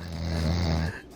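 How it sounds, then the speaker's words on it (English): Loud, continuous snore from a person transmitted over gaming voice chat, a single long droning inhalation that holds steady for most of the clip before cutting off into quieter background. "If he snores that loud, it doesn't wake himself up."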